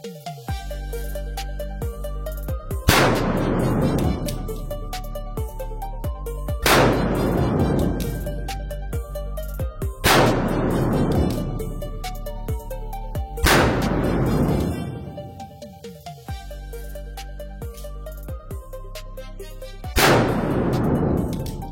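Subcompact pistol fired at a range, with several loud booming shots spaced a few seconds apart, each with a long decaying echo, heard alone without talk.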